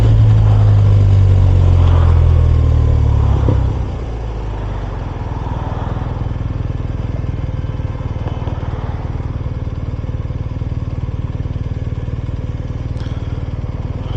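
A BMW R 1250 RS motorcycle engine revs hard in traffic on a downtown Austin street, loud and close at first, then settling into a steady, lower droning run for the rest of the clip.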